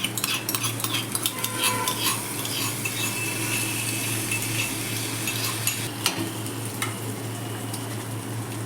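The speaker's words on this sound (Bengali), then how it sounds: "পেঁয়াজ আদা রসুন যে থিতো করে রেখেছিলাম সেটা দিয়ে দেবো" Onion-ginger-garlic paste is spooned into a hot pan for rainy-day khichuri, with metal spoon clinks and scrapes against the pan over a constant sizzle and a low steady hum, close and without talk.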